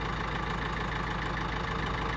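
A tractor engine runs steadily after a fuel filter repair, with a close, even low idle chugging on without a break.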